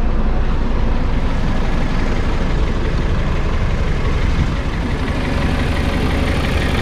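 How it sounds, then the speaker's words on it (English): An Anadolu Isuzu Grand Toro bus engine, mounted set back between the front axles, runs with a steady, loud, continuous low rumble and idle-like drone, heard from the front of the bus with no talking. "the engine is set back slightly, so it's much quieter at the front"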